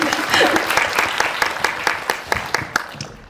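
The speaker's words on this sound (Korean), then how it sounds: "두 분의 대답에도 박수 좀 쳐주세요" An audience at a Korean film screening Q&A applauds, a dense spread of clapping that holds steady and then thins out toward the end, with no voices over it.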